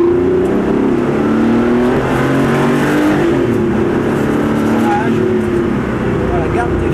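A Porsche Carrera Cup race car engine drones loudly from inside the cabin during a driving course, a steady, strained accelerating tone with a voice coaching over it.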